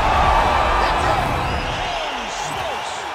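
Arena crowd cheering after a fight ends in the UFC 5 video game, a loud sustained roar with whoops that slowly fades over a few seconds.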